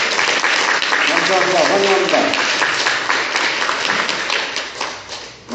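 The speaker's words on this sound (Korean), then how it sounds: "자, 박수 한번 주세요." A church congregation at a Korean Mass claps in welcome for newcomers, a full, sustained round of applause that thins toward the end while a voice speaks briefly over it.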